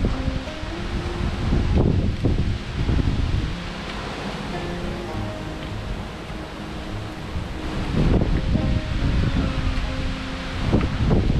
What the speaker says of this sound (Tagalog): Malakas yung hangin, tuloy-tuloy pa rin